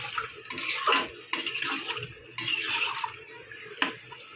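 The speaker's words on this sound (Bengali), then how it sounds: "আলুটা সিদ্ধ হওয়ার জন্যে দিয়ে দেবো জল" Water poured into a pan of papaya and potato curry for a fish curry, a running splash with clinks of pots and utensils and stirring, close and fairly loud, with no talking.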